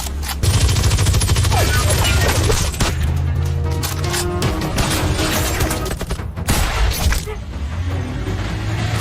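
A loud film gunfight with heavy automatic fire, fusillades and occasional booms and shattering, continuous and intense throughout, with a narrating voice over the battle.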